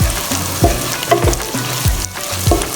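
Green chili pieces fry in a pan close by, a loud steady sizzle broken by rhythmic scraping strokes of a spoon stirring them every half second or so, with no talk.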